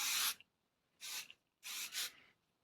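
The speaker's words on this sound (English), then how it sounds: "So what I'm going to do now before I play with the curls is put some hairspray in." Schwarzkopf Keratin hairspray hisses onto a human hair wig in three short, close bursts with brief gaps between them, the last one a double puff.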